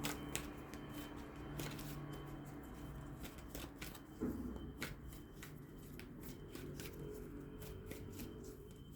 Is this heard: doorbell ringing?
no